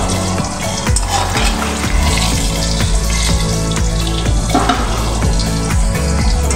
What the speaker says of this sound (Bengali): দেখো আলুগুলো লাল লাল হয়ে এসছে।